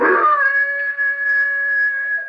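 A hound dog howls at night, one long sustained near howl that holds a steady pitch after a rough onset and is heard alone.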